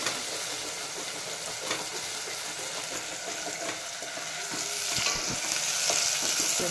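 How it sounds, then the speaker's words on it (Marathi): Onion sizzles and fries in a pan while being stirred for Maharashtrian amti, a steady close crackle with occasional scraping clinks of the spoon against the pan and no voices. "कांदा भाजून परतायचा असं केलं परतलं"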